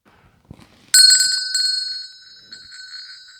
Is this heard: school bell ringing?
yes